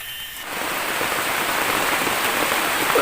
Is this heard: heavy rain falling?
yes